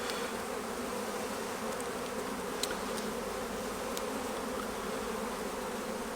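Honeybees buzz around an opened hive on an allotment, a dense steady drone of many wings with a few brief closer passes, with no talk.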